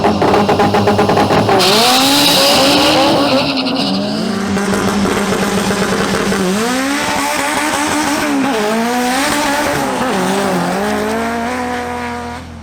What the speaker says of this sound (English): Next, Andres Cabrera's Honda Civic faces off against Freddy Gonzalez's BMW M140i.